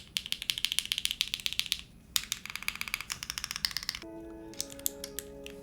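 Rapid clicky keystrokes on a mechanical keyboard themed on the Toyota AE86, a steady burst of typing, a short pause, then more taps over a faint tonal hum, close up.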